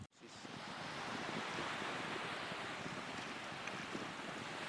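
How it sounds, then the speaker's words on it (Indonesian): Waves and wind on the beach at Tegal city, Indonesia: a steady broadband rush of surf and gusting wind buffeting the microphone, continuous and fairly loud without speech. "Di pantai sini Kota Tegal"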